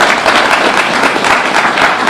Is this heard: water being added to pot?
no